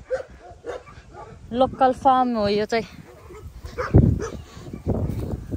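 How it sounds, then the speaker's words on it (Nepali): Many dogs at a local farm barking, yipping and whining, some with drawn-out howling tones, mixed under close conversation. "कति धेरै कुकुर रहेछ"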